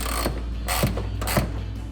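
A socket wrench ratchets while tightening a headlight bolt on a 2007-2014 Chevrolet Silverado 2500, giving short bursts of crisp, close clicks separated by brief pauses, with no talking.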